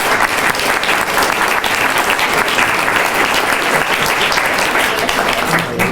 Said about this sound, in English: So let's just have a huge round of applause for this event.